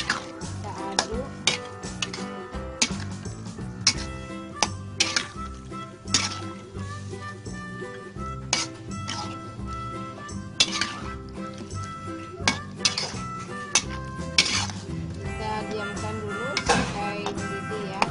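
Squid stir-fry tossed with sugar, seasoning and salt in a pan, with repeated metallic clinks and scrapes of a utensil against the pan over a soft sizzle, a voice talking faintly throughout.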